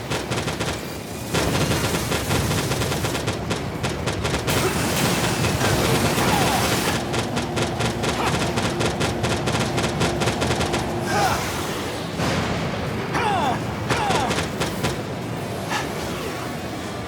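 Dense video-game gunfire from Daemon X Machina, a sustained barrage of rapid automatic bursts and heavy impacts running nearly the whole time, loud and close, with a voice speaking over it at times.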